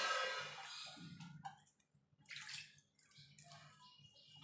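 Water is poured into a pot of lentils and jute leaves in a home kitchen. A brief splashing pour comes first, followed by faint, soft sloshing and drips, close by and quiet.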